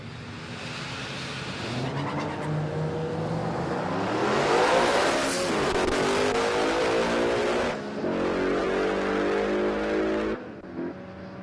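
At a Palmyra Raceway drag race, a Ford XD wagon and a Mustang roar and accelerate hard off the line, the engine note climbing steadily and staying loud before tailing off.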